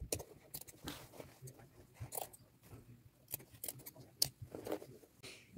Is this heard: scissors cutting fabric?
yes